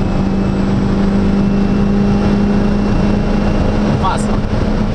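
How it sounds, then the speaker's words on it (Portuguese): VW Lupo with a swapped 1.8 turbo engine droning loudly under steady acceleration inside the car, ending with a short sharp turbo blow-off hiss near the end. "Isto aqui faz uma descarga de turbo muito fixe."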